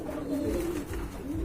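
Pigeons at a farm coo in a low, rolling murmur that sounds close and steady, with no voices over it.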